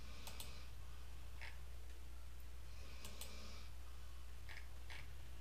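Faint, sparse computer mouse clicks during work in Affinity Publisher, with a few quick single and double clicks spaced apart over a steady low hum.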